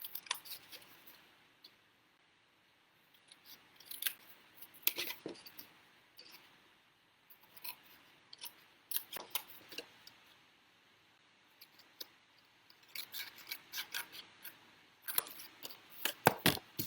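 Scissors snip through card paper while a slimline card is made: faint, scattered, crisp cuts and rustles in quick clusters across a quiet room.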